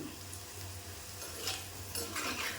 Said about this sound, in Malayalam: ആ എണ്ണയ്ക്കകത്ത് കിടന്ന് എല്ലാം കൂടെ കിടന്ന് മൂക്കുവാണ്